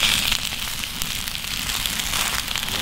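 Sausages grilling on a fire plate over an open wood fire, a dense continuous crackle and sizzle with scattered pops, loud and close throughout.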